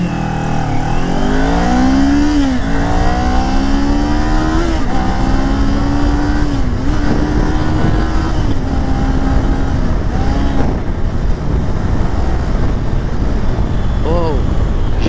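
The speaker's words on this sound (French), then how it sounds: "on va se faire un petit départ arrêté ici" A 2023 Kawasaki Ninja 400 pulls away from a standing start, its engine revving hard and rising in pitch through several quick gear changes, loud and close with wind noise.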